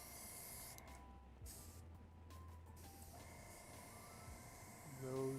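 An airbrush sprays water to prime it before painting a 3D-printed can cozy, giving a steady low-level hiss with brief gaps, close to the microphone, and a voice enters at the very end.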